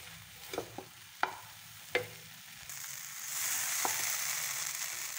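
Matar paneer masala with homemade garam masala sizzles in a pan, a spatula scraping and stirring in a few sharp strokes before the frying hiss swells and holds steady.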